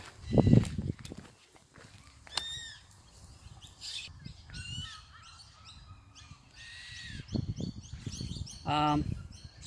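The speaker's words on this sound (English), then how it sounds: "You can probably see those birds in front of you, there's some sounds of birds." Scattered bird calls and chirps ring out over a quiet outdoor background in Westerfold Park, with a few footsteps and low thumps near the start and end.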